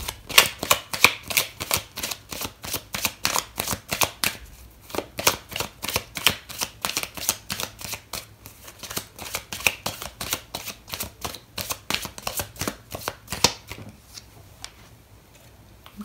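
Tarot cards are shuffled in a fast, steady riffling rhythm of sharp slaps and flicks, close and fairly loud, slowing and thinning out near the end, with no talking.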